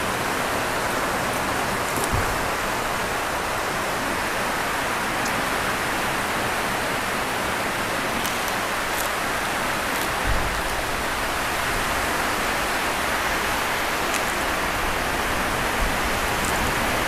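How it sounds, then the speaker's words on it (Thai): Steady rainfall keeps up an even, hissing wash of sound with no breaks, close and fairly loud, and no voices are heard over it. "ท่ามกลางบรรยากาศฝนตก"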